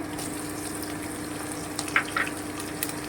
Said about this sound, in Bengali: এবারে আমি পেঁয়াজ কুচিটা দিয়ে দিচ্ছি